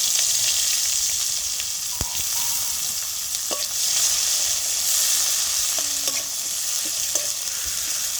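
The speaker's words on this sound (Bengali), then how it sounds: "এবার তরকারি বসিয়ে দেবো। দিয়ে দেবো পেঁয়াজ কুচি," Steady, close sizzling of chopped onions frying in a hot pan, with a few light clinks and scrapes of stirring.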